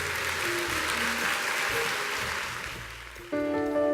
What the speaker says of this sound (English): So let's go ahead and give her another round of applause